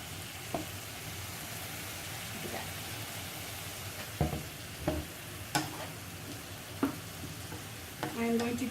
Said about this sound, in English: And now I'm just going to stir them in.